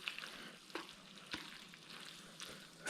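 Fish stir fry with fried noodles, made with wild-caught silver jewfish, sizzles faintly in a pan while a utensil gives a few short scraping stirs.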